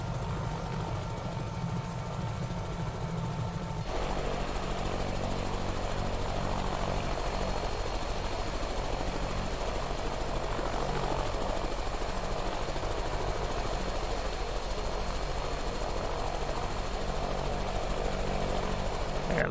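A Eurocopter AS350B3e helicopter in Microsoft Flight Simulator, steady rotor thrum and engine drone, loud and continuous, with a shift in tone a few seconds in; no voices.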